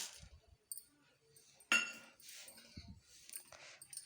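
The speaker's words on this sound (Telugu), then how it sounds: "ప్యాన్ హీట్ అయింది ఇప్పుడు మనం మినపగుళ్ళు వేసుకుందాం" Dry urad dal dropped into a heated pan for roasting, a few scattered clinks and rattles, with one brighter clatter in the middle and softer scraping after, close and fairly quiet with no talk.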